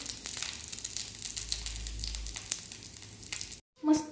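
Aloo tikki potato patties sizzle and crackle steadily as they fry in a pan. The sound cuts off briefly near the end, followed by a short clink.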